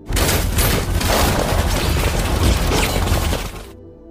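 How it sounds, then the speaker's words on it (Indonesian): A burst of gunfire in a film, as a mysterious figure leaps out a window: dense, continuous crackling volleys for several seconds before cutting off abruptly. "Alhasil, berondongan tembakan pun terjadi."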